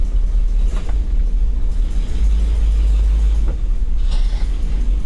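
A 1985 Chevrolet K5 Blazer that sat for 28 years idles with a deep, steady low rumble as the truck rolls slowly with weak brakes, the engine drone close and unbroken throughout.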